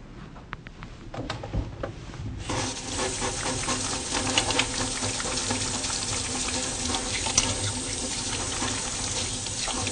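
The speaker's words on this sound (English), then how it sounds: "I'm first going to wash my hands." Running tap water in a clinic sink as hands are washed before a cardiovascular examination, a steady close broadband hiss that starts after a couple of seconds of quieter handling and continues alone without talk.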